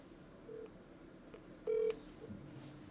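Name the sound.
telephone dialing tones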